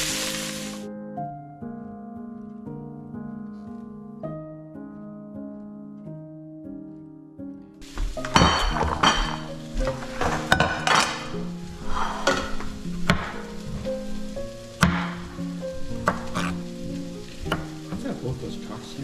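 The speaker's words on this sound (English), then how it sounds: "Man, that's sizzle." Food frying in a pan in a home kitchen, a loud, dense sizzle with crackling that starts suddenly partway through and keeps going, while tonal music plays throughout.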